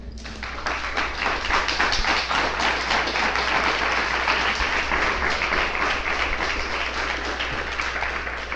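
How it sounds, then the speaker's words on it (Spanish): A congregation at a Spanish-language sermon on Romans chapter 6 breaks into loud, sustained applause, dense clapping filling the whole stretch at steady strength and near. "¿Le puedes dar un aplauso bien fuerte?"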